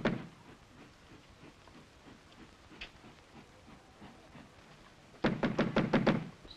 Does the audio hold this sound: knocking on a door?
yes